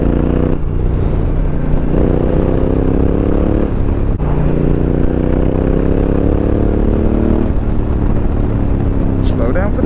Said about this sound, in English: that downshift sounds so glorious